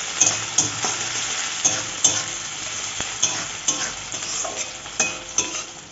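Finely chopped onions fry in oil in a pan for a Bengali fish curry, a close crackling sizzle punctuated by sharp, regular stirring knocks about every half second, without any speech.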